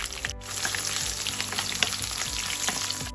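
Garlic sizzles and crackles steadily in hot oil, with occasional sharper pops and stirring sounds throughout.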